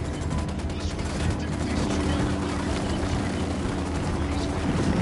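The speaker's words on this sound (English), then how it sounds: "Opening fire on these shitheads." Gunfire in the Ghost Recon Wildlands video game rattles in dense bursts over a low engine rumble, with voices talking over the action.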